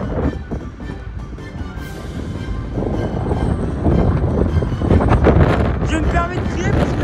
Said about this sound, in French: Je me permets de crier parce qu'il y a beaucoup de vent.